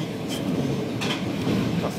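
A Tokyo Ginza Line subway train rumbles steadily between Tameike-Sanno and Akasaka-Mitsuke, with a low, continuous roar and faint higher hisses, heard from inside or close by.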